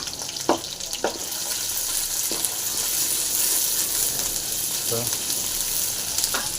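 Onions frying in heated oil for a spicy potato and horse gram curry, a steady close sizzle with a few sharp clinks of a spoon against the pan, no one talking over it.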